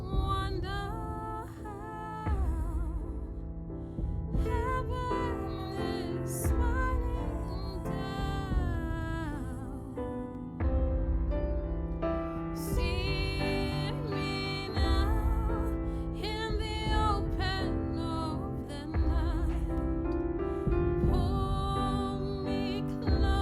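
A full music mix plays continuously, with percussion hits running under sustained tones and melodic lines at a moderate level.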